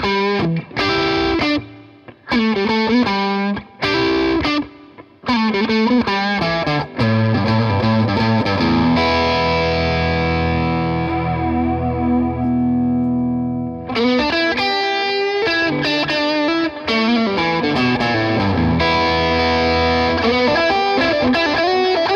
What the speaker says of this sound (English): I'll be having my tube screamer on, maybe with some reverb.